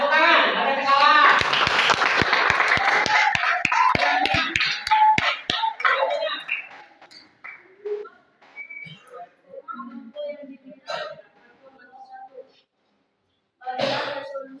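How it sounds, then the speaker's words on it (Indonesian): Indonesian classroom students clapping hands together, a loud dense burst of applause for several seconds that thins into scattered claps and chatter, with another short clapping burst near the end amid voices. "Ya, tepuk tangan."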